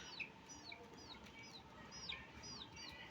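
A young chicken chick cheeps in a steady series of about seven high, thin, falling peeps over roughly three seconds, close by, over a soft constant background hiss with no talking.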